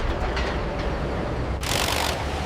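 A high-speed subway train rolls along the rails as a continuous heavy rumble, with a brighter hissing rush swelling in near the end.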